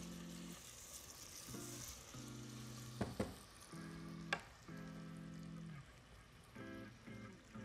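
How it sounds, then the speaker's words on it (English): Garlic sauce simmers and sizzles in a pan, a steady frying hiss with a few sharp clinks from utensils or pan handling partway through, fairly close and with no voices. "How long do we simmer this down?"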